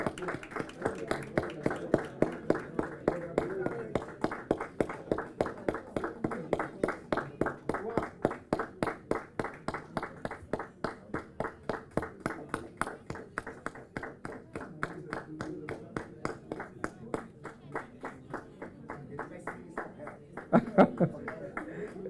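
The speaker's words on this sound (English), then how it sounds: "Let's give her a big round of applause for him. A big clap for her, please." Steady rhythmic clapping from a crowd at a university graduation ceremony in Dubai, sustained for a long stretch with a brief louder burst near the end.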